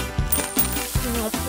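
Coins drop one after another into a piggy bank, giving about four bright metallic clinks with brief rattles between them, close and clear.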